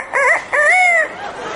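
A parrot mimics a rooster's crow in two close, loud calls, a short burst then a longer drawn-out crow, with a faint trailing note after.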